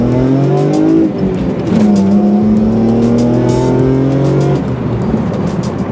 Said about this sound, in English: And the exhaust that we put on this thing sounds pretty decent.